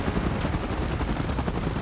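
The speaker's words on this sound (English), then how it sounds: "Chopper in position." Helicopter in the video game PUBG Mobile, a dense, loud, continuous rotor roar with rapid chopping texture filling the whole moment, no voices over it.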